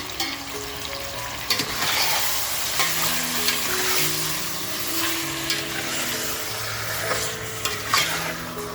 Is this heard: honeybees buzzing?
no